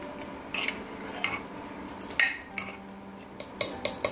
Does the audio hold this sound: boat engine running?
no